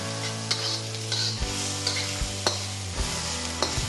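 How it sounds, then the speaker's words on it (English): Onion and garlic sizzle in oil in a pan, with a steady close frying hiss. Several soft scraping clacks of a quick stir sound over it at irregular intervals. "I'm gonna give it a quick stir."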